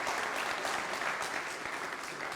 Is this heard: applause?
yes